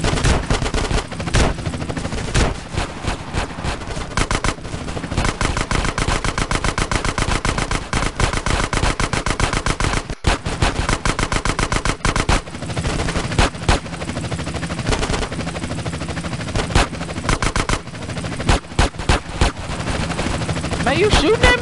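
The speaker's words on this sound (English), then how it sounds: "Are you shooting at me?" Sustained bursts of automatic gunfire and rapid shots fill a GTA San Andreas shootout, loud and nearly continuous with dense overlapping rattles throughout.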